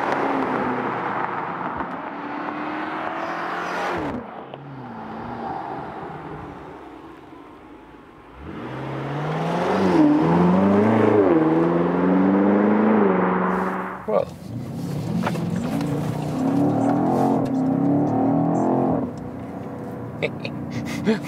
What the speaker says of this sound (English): you maybe also hear that, then the car automatically goes a gear down and shifts differently, so keeps it rather in low gears